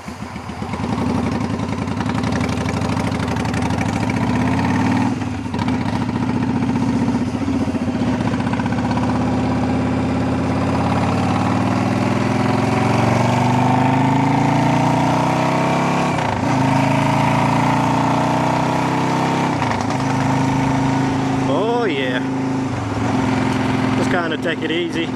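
A motorcycle engine idles steadily and loudly close by for the whole stretch, a constant mid-pitched rumble with slight wavering.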